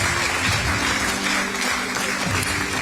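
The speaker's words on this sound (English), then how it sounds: "You could do better by simply clapping and acknowledging him." An audience claps steadily at an awards night, a dense, loud, continuous round of applause filling the hall with no pause.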